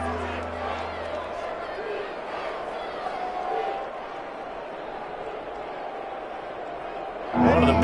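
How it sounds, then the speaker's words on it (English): A stadium crowd at a football game keeps up a continuous loud roar and cheer, a dense wall of voices that swells sharply in the final moment. "The crowd getting into it as we come up on a big 3rd down."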